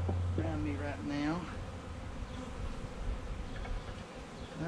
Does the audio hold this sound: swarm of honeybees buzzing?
yes